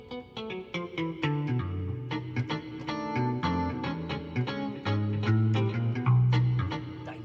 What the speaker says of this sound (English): Here's a mute guitar.